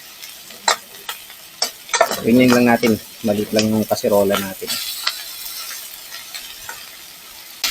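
Onions, garlic and pork sautéing in a small pot for an Ilocano dengdeng, with a soft steady sizzle and some stirring clatter under a woman's speech.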